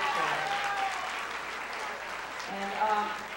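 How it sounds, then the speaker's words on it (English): Audience applause for a school band at a high school winter concert, a steady wash of clapping from a crowd with voices talking over it. "Another round of applause for the band kids."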